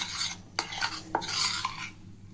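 A spoon stirs about two spoonfuls of cocoa powder mixed into a liquid for homemade chocolate ice cream, giving close scraping and swishing strokes with a few sharper clinks against the bowl and no voices.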